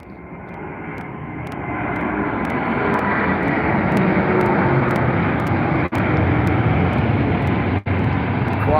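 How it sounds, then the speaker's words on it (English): An Airbus A321 takes off at London Heathrow, its engine roar building steadily from a low rumble into a loud, sustained broadband thunder that holds for several seconds, with two brief dips near the end. "quite a late takeoff there for the 321"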